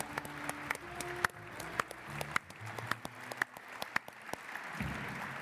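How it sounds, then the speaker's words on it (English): Audience applause greets the chairmen of the DLD10 conference, a dense sustained patter of clapping in a hall with a few louder sharp claps standing out, fading slightly toward the end. "have a great applause for our chairman, who will now speak to us"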